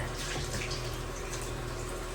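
Hot water runs steadily in a home shower, used to thaw frozen rats for feeding ball pythons: a constant, even hiss and patter of spray that holds at the same level throughout, with no voices.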